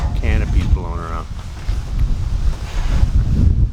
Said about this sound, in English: it's really getting windy here. My canopy's blowing around